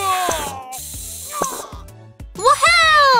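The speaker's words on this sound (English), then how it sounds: "Let's defeat the bad viruses by spraying medicine!" Cartoon medicine being sprayed onto bad viruses during a hospital play scene, heard as a couple of short, hissing spray bursts over bright music and cheerful voices.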